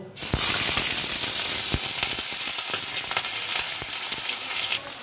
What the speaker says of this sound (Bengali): কড়াইতে সর্ষের তেল গরম হয়ে গেছে। প্রথমে আলুগুলো ভেজে নেব।